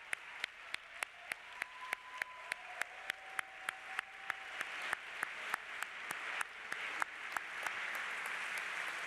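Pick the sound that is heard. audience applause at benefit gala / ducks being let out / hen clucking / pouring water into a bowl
audience applause at benefit gala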